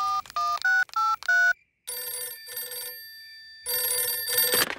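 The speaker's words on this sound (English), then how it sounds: "we'd better phone the king" A cartoon telephone is dialed with a quick run of beeping tones, then rings twice in bright electronic bursts separated by silence, each ring loud and close.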